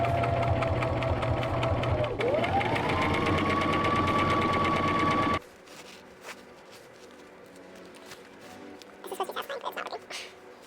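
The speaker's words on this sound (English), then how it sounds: "now I'm going to top stitch this on." A sewing machine top-stitches a pocket onto a canvas tote bag, a loud, steady mechanical whir running close for about five seconds, its pitch dipping briefly and then rising, before it stops and only faint handling noises remain.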